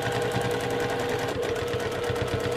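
A sewing machine runs steadily during free motion quilting on a flying geese quilt, its rapid needle stitching a continuous close mechanical chatter with no talking.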